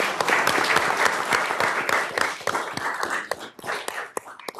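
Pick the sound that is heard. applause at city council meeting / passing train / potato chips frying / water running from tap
applause at city council meeting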